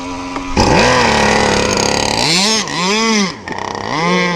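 A small gas engine on a radio-controlled boat screams at high revs while its carburetor is leaned out, then its pitch dips and swoops up and down in several quick surges, loud and close.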